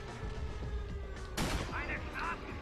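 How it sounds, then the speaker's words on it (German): A single sharp explosion-like blast from the Sniper Ghost Warrior video game, brief and fairly faint within game ambience, with a voice talking around it. "Die Explosion."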